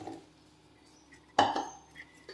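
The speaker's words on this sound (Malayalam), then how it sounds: "ഇനി ഇതിലേക്ക് നമ്മൾ ഈ അരിച്ചു വെച്ചിട്ടുള്ള മാങ്ങ ഇട്ട് കൊടുക്കാം." Cut raw mango pieces for a mango pickle tip into spiced masala, one short close clatter of a spoon against a metal dish, followed by faint scraping in a quiet room.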